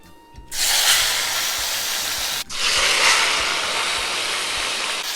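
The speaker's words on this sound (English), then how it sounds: "My oil is kind of smoking now, so I'm just gonna grab my beef and put it in there carefully, and I want to sear" Beef pieces are laid into smoking-hot oil to sear, each one setting off a loud, sudden burst of hissing sizzle; two distinct bursts follow a brief pause and stay strong and steady.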